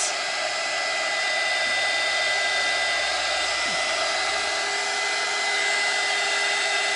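A hair dryer blows steadily and loudly on a resin bunny's tail in a craft project, a constant close whoosh with no talking.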